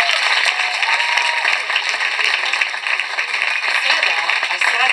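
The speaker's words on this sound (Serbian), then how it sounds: "Bravo, molim vas, aplauze." An audience at a festival award ceremony in Kruševac applauding, a steady dense clapping that fills the room throughout, with a voice faintly under it.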